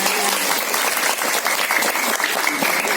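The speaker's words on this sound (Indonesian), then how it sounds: "Ya bagus, tepuk tangan." Brief applause at a Quran school (tahfidz) inauguration event, steady dense clapping from a gathered audience lasting about three seconds.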